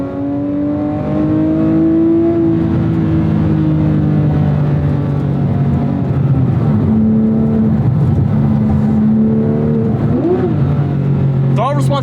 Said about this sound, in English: I keep over revving it, bit of a learning curve.